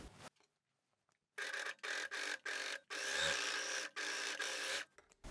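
A sewing machine stitches a seam joining a sleeve to a kimono body, running in several short bursts of steady whirring separated by brief pauses, close and clear with no talking.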